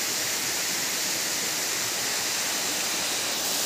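Bantakay Falls in Atimonan, Quezon roars as a steady, dense wash of falling water, loud and continuous with no voices.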